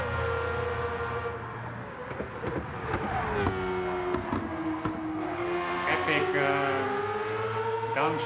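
A Vision GT racing car engine in Gran Turismo 7 roars loudly and continuously, its pitch climbing and dropping through a series of gear shifts, with faint crowd-like noise behind.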